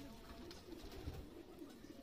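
Aliwala pigeons in a loft give faint, low coos repeating every fraction of a second, heard at a distance under a quiet, hissy room background.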